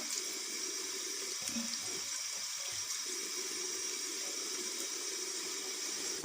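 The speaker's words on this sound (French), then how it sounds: "Pour le rinçage, à l'eau tiède, voilà, vous rincez à l'eau tiède." Lukewarm tap water runs steadily from a faucet while exfoliating soap is rinsed off, a soft continuous hiss and splash with no talk.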